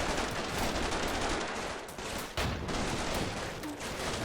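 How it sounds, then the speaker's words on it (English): Continuous dense gunfire with RPG launches rattles in the video game Combat Mission Shock Force 2, a loud, unbroken barrage of overlapping shots with one brief lull. "casually firing an RPG from inside the building again"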